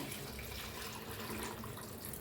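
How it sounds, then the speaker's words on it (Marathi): Water pours steadily in a soft, continuous splashing rush, quiet and uninterrupted, with no talking, while making misal rassa curry. "ताई पाणी काढून घेतलेलं वतूया"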